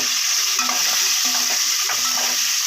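Halved boiled eggs fry in a pan of oil for a tomato egg thokku, giving a steady close sizzle with soft stirring scrapes throughout.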